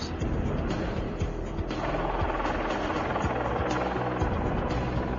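Longbow attack helicopter in flight, a steady loud rotor thrum and turbine whine with rhythmic low beating throughout, no voices.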